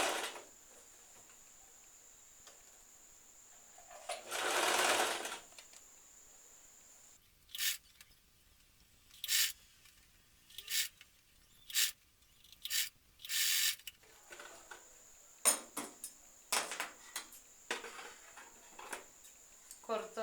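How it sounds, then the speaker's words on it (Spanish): A sewing machine runs in short separate bursts, stitching fabric for pajamas. It is done slowly, about half a centimetre in from the edge. One longer run comes early, then a quick series of brief, fairly close stitching spurts follows, with quiet gaps between them. "coso aproximadamente a medio centímetro. Lo hago poco a poco para que no se arrugue"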